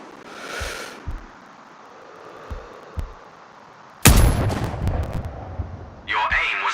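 A sniper rifle fires in the video game Sniper Ghost Warrior Contracts, a single sharp loud crack with a rolling echo, preceded by quieter thumps and followed by a shorter burst of noise.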